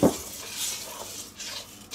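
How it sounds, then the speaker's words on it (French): Risotto rice being stirred in a pan, with soft scraping and clinking of a utensil against the pan in a short, gentle sequence, close by and fairly quiet. "On va tout mélanger pour que mon riz devienne translucide"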